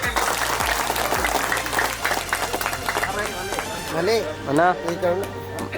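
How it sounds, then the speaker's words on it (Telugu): An audience claps at a village felicitation ceremony, where a shawl is presented to the new officials. The applause is dense and sustained, and someone talks loudly over it near the end. "అందరు కూడా క్లాప్స్ కొట్టండి"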